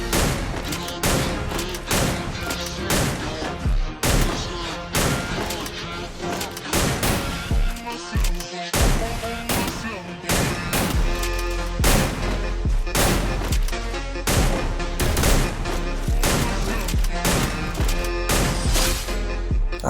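Rapid gunfire in a shooter video game match, dense bursts of shots cracking almost continuously with loud booms, game audio layered with constant effects throughout.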